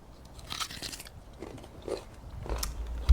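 Loud, crisp crunching as someone bites and chews a raw, uncooked vegetable with a potato-like texture. Several close bites and chews come in an irregular rhythm, with no talking.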